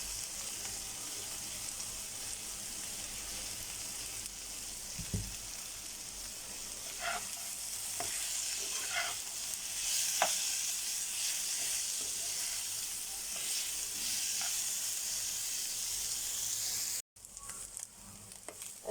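Carrots sizzle and fry in a hot pan with shredded boiled meat for a crispy snack, a steady broadband hiss running throughout with occasional stirring clicks and scrapes, close and continuous, then cutting off briefly near the end.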